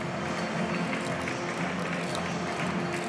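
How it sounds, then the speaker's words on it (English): Faint, distant applause from away fans, steady clapping blended into a broad stadium murmur after a West Bromwich Albion versus Charlton football match. "who have all stayed behind to applaud the team and applaud the point"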